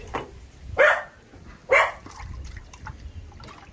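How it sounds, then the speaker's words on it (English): A dog gives two short, sharp barks about a second apart, fairly close, over a faint background trickle of water in a home kitchen. "He's a sweet dog."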